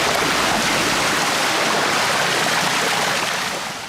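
Water from hoses gushes loudly and steadily into a leaking Austin Princess car, a dense roaring rush close by that eases slightly at the end, with no voices.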